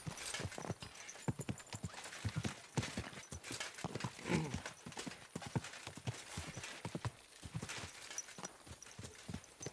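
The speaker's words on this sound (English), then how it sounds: "What a beautiful horse." Horse hooves clip-clopping steadily and close in the medieval game Kingdom Come: Deliverance 2, dense rapid strikes throughout with a brief whinny midway and no talk.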